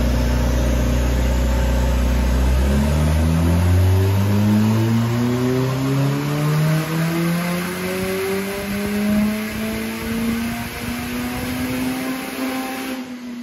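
A Ford Fiesta ST with a 1.6 EcoBoost big-turbo forged engine pulls hard on a dyno, its loud engine note climbing steadily in pitch through one long sustained run before backing off at the end.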